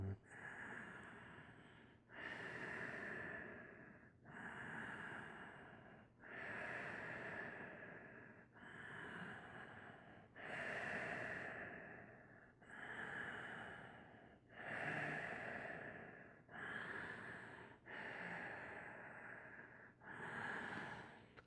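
Slow, deep breathing while holding a yoga bridge pose, with about ten long, even breath cycles repeating every two seconds or so, close and clear with no talking.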